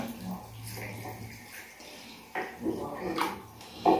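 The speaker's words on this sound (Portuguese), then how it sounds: "Vou colocar mais água." Somewhat warm water runs steadily into a basin as something is washed with a sponge and detergent, with a broad splashing hiss that swells near the end, and light handling noises mixed in.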